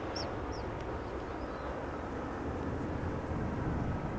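Aircraft at Amsterdam Schiphol Airport make a broad, steady rumble of engine noise that holds level throughout, with faint bird calls at the start.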